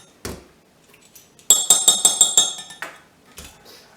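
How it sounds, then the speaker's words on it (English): A whisk beats a mustard and honey dressing in a bowl, a quick run of bright metallic clinks after a couple of single knocks, close and clear. "So I'm just going to whisk that up."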